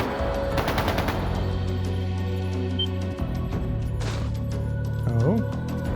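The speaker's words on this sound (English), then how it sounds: "That sounded like gunfire." Bursts of rapid gunfire ring out in the video game Trails of Cold Steel II over steady music and ambient tones, with a brief burst of louder shots near the end.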